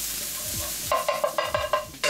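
Peppers and garlic fry in butter in a pan, a sizzle broken by a series of sharp stirring scrapes and clacks in a quick, uneven rhythm, close and moderately loud, with no voices.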